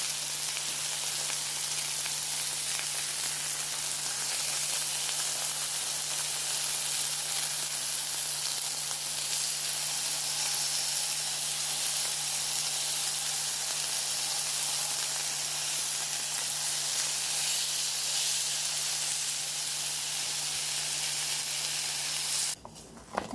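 Chicken frying in a pan as Marry Me Chicken cooks, a steady loud broadband sizzle holding for over twenty seconds with a low constant hum beneath, cutting off abruptly at the end.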